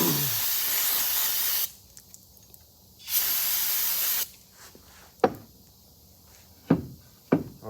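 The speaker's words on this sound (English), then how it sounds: "That's all right, that's why we got brake cleaner." Brake cleaner sprayed onto oily engine parts during a Legends race car motor swap: two long loud aerosol hisses lasting over a second each, then a few short sharp spritzes, with quiet workshop gaps between.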